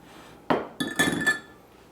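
A glass 2-quart measuring cup is set down and handled in a kitchen while banana bread is made, giving a couple of sharp clinks close by.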